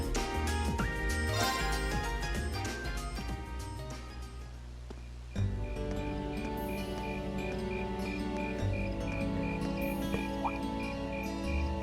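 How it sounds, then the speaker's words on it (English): Night insects and frog-like croaks chirp in a rhythmic chorus in the autumn game world of Trails of Cold Steel, layered over soft ambient music with no talking. "Insects, huh? Well, it is fall, I guess."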